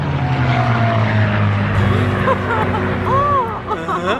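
An unlimited-class racing airplane at the Reno air races roars past loudly, its propeller engine drone shifting in pitch as it passes, with crowd murmur in the background.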